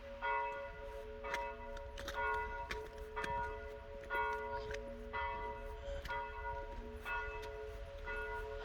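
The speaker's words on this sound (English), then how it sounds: "Bells. It's just telling that it's 4 o'clock." Village church bell tolling four o'clock outdoors on a November walk, a series of evenly spaced ringing strikes that hang and overlap, moderately distant and clear over quiet surroundings.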